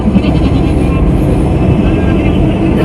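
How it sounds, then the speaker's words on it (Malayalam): An FM radio in a moving car gives a loud, steady wash of static-like noise throughout, with no clear music coming through. "പാട്ട് വെക്കാൻ വേണ്ടിയിട്ട് FM ഓൺ ചെയ്തപ്പോൾ ഇതാണ് ഗൈസ് കേൾക്കുന്നത്"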